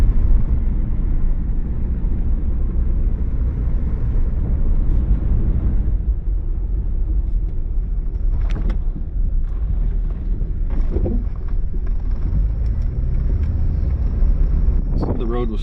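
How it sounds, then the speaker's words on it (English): A car drives along a road in Nebraska after a storm and flooding, giving a steady, close rumble of engine and tyres with wind buffeting the microphone, while a person talks. "Just out driving around trying to look at some of the damage done by the storm."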